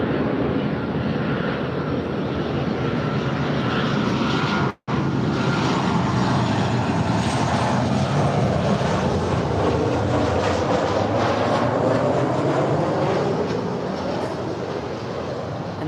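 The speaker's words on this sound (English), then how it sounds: "this is Southwest 457 from San Jose, California. 737-700." A Southwest Boeing 737-700 jet at LAX roars loudly and steadily, the broad engine noise close and continuous apart from one brief dropout, with no talk over it.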